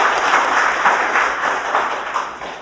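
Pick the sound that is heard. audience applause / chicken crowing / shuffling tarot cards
audience applause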